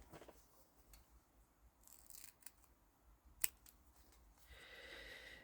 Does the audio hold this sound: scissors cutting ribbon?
yes